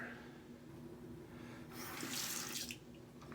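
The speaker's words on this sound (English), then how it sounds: "here I am already needing to add a little bit more water" A bathroom tap runs into a sink to add water to shaving lather during a straight-razor shave, a quiet steady flow that swells into a louder splashing gush in the second half.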